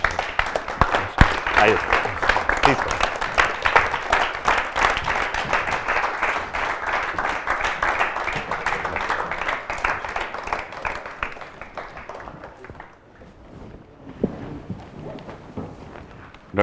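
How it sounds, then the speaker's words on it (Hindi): A studio audience claps rhythmically and vigorously to welcome a distinguished scientist guest onto a chat show, the steady clapping continuing for many seconds before thinning out, while a host speaks briefly over it. "जोरदार तालियों के साथ उनका स्वागत।"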